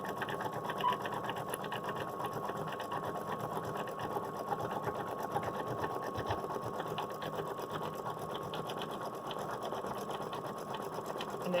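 An embroidery machine runs steadily through an underlay stitch, a continuous close mechanical whir with rapid regular needle rhythm throughout, no voices over it.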